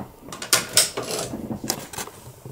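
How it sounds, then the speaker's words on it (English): The carriage of an SK280 knitting machine slides across the needle bed, producing a series of sharp mechanical clacks and ratcheting rattles in quick bursts, close by and fairly loud. "that's why I'm able to move it across the needle bed"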